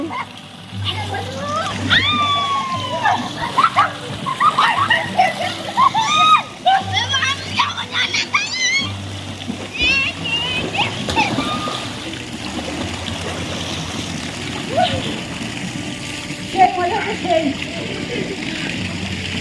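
Water splashes steadily under a fountain shower at a swimming pool, a continuous wet rush with sloshing, while children's high voices shout and talk over it throughout.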